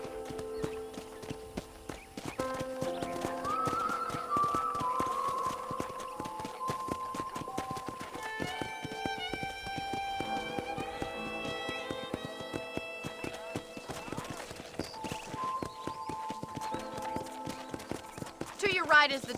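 Steady clip-clopping hooves of a horse at a brisk pace in Red Dead Redemption on PS5, mixed with game music and ambient sounds throughout.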